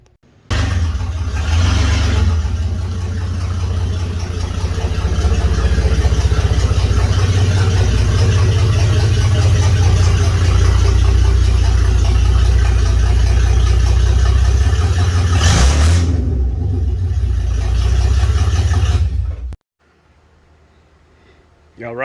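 A Gambler 500 truck engine runs at a rough, loud idle for nearly twenty seconds, with a sharp revving burst near the start and another near the end before it cuts off abruptly.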